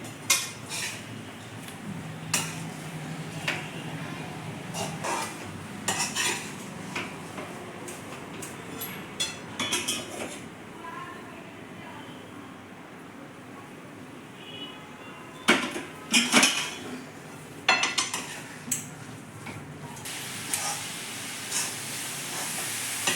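Puris dropped one after another into hot cooking oil in a home kitchen, frying with a soft steady sizzle broken by occasional sharp clinks and scrapes of utensils against the pan.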